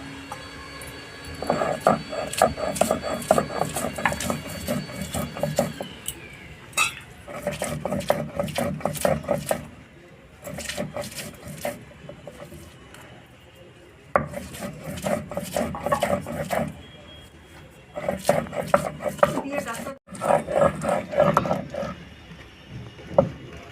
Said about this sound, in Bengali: কাঁচা লঙ্কা আর রসুন একবারে বেটে নেব